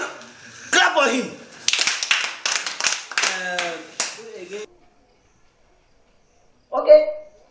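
Pupils in a classroom clap for a classmate, several bursts of brisk hand claps close by amid chatter, then a pause of near silence before a short voice.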